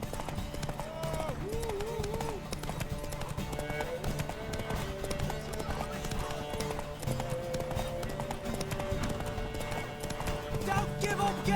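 Galloping horse hooves clip-clop in a quick steady rhythm under The Witcher 3 game music, with occasional voices calling out over the running horse.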